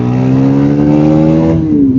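A Bajaj Pulsar NS 400 naked motorcycle's engine revs loud and close on an open road, holding a strong steady drone before the pitch sags and fades at the end.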